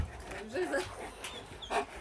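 A dog pants during a wartime evacuation, after being given a sedative for the long journey; short breathy pants and a faint whimper come through beneath nearby people talking.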